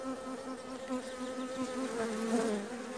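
Honey bees buzz around a weak beehive being tended, a close, steady droning hum with a wavering pitch and no voices.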